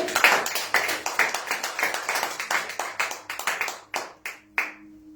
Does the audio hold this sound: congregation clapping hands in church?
yes